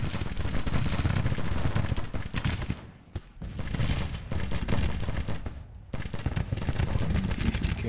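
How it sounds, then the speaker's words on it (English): Massed musket volleys and booming cannon fire roll continuously in a Grand Tactician Civil War battle near a bridge, dense and loud, with two brief lulls between sustained bursts. "Everybody's firing. Cannons are firing."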